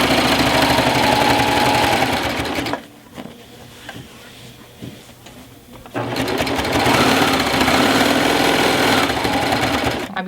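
A serger sews binding onto a quilt with a loud, rapid mechanical whir, running steadily, pausing for a few seconds of quieter handling noise, then whirring up again to full speed.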